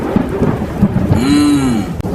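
Steady rain falls outdoors during earth digging, with a continuous rushing patter filling the background and low rumbling thunder swelling underneath, no voices present.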